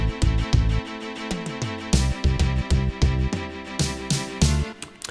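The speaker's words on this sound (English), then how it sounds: "I've just loosely played in some strings which sound like this" Retro 16-bit JRPG battle music arrangement in Logic Pro X, with synth string chords moving through minor and major harmonies over punchy low notes and percussion, loud, rhythmic and continuous.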